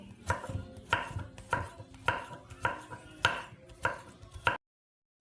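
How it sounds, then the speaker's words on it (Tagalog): Bitter gourd (ampalaya) sliced with a knife on a board, eight crisp regular chops in an even rhythm, close and clear with no voices, then silence. "At syempre, iwain na natin itong ating ampalaya."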